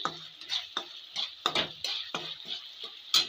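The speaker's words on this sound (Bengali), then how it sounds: "এই যে তেলটা ছেড়ে এসেছে এবার নেড়ে দেবো একবার" Cauliflower curry masala frying in oil is stirred in a pan, with a sizzling hiss and a steady series of spoon scrapes and clicks roughly every third of a second, close and moderately loud, with no voice.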